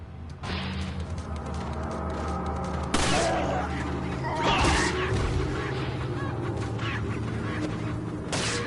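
Shotgun blasts in the video game Resident Evil 4, several sharp booming shots spaced a few seconds apart over a low game ambience, with squawking fowl-like creature sounds mixed in.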